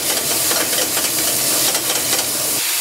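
Chopped onions sizzle in a hot frying pan, a loud, dense, continuous crackling hiss that holds steady throughout with no talking over it.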